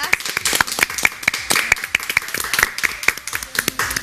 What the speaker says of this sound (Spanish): Un aplauso para nuestras invitadas.